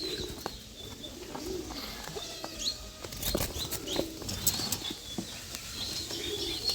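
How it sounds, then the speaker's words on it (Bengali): Bunu pigeons and their chicks in a loft, with repeated bursts of wing flapping and soft low cooing, plus occasional chirps, close by. "তো এখানে দেখুন বুনু কবুতরের বাচ্চাগুলো সবেই, কবুতরগুলো সব কোয়ালিটি সম্পন্ন"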